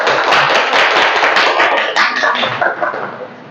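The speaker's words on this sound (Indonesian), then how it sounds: "Oke, tepuk tangan untuk semuanya." Students in a classroom clap together, a loud, dense burst of many hands that carries on steadily and then begins to thin out and trail off toward the end.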